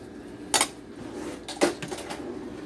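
A metal spoon clinks and scrapes against a bowl while scooping cheese into small lumpy balls for keto cheese balls, two sharper knocks followed by lighter taps, fairly faint and close in a quiet kitchen.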